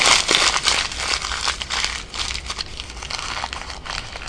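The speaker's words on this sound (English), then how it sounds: "I'm going to take some newsprint scraps, I'm going to crumple them up" Scraps of newsprint being crumpled by hand to pack inside a clay head, giving a dense, close, continuous crinkling and crackling with no talk.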